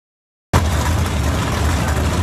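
Classic drag cars, including a 1965 Chevy II, rumble at the start line of a drag race, a steady loud engine drone kicking in abruptly after a half-second of silence and holding without letup.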